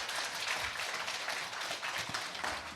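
Audience applause at the close of a lecture on the birth of civilization at a humanities forum, a steady dense wash of many hands clapping that fills the room evenly without letting up.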